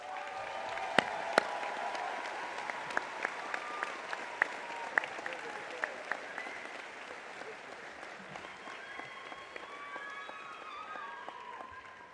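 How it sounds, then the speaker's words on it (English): Steady applause from a large audience honoring graduates at a university summer commencement, with sharp individual claps popping out over the dense wash, continuing alone for about twelve seconds in a big hall. "How about another round of applause for all of our graduates?"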